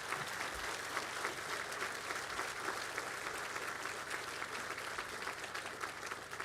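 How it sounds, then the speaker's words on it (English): An audience at a fiscal-year budget address gives a sustained round of applause, dense and even throughout, heard at some distance and fairly faint. "So please just give them a round of applause."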